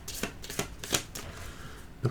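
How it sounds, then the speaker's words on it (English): A small deck of infection cards from the board game Sidequest Nemesis being shuffled by hand: a few quick, soft riffling flicks close by over about two seconds. "We'll give them a shuffle"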